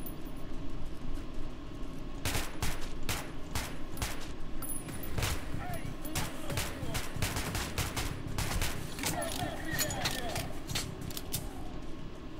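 Repeated sharp gunshots from a gun with a collimator sight ring out in irregular bursts in Metro Last Light Redux, layered over steady background noise with a voice talking at times.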